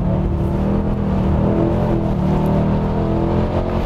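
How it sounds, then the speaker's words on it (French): A Mercedes E63 AMG with a 525 hp engine accelerates in a straight line, its loud, steady engine roar filling the cabin throughout without a break. "Est-ce qu'on serait pas une petite accélération ligne droite?"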